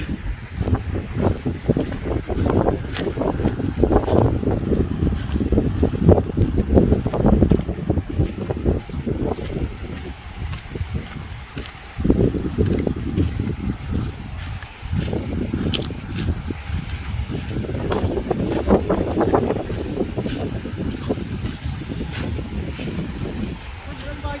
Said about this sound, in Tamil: கடல் காற்று அப்படி இதமாக வீசிக்கொண்டிருக்குது